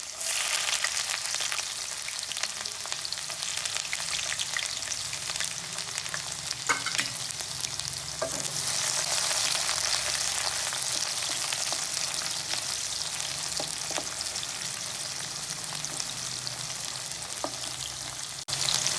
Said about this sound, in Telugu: ఆయిల్ బాగా వేడెక్కింది కాబట్టి తొందరనే ఉల్లిగడ్డలు మంచిగా వేగిపోయినాయండి